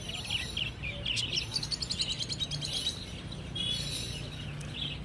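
Caged exotic birds at a bird market chirp and tweet in quick rapid bursts, several overlapping calls repeating over a low hum of background noise, moderately near but quiet.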